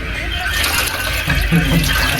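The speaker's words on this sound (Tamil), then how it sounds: "தண்ணி ஊற்றிக்கணும்." Water pours steadily in a continuous, fairly loud rush, with a faint voice underneath.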